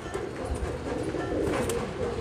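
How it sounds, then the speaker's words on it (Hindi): A king-size male high-flyer pigeon from Jaipur Tonk gives soft, low cooing, steady and close, under a dense wash of background noise. "किंग साइज़ का कबूतर है ये देखें आप"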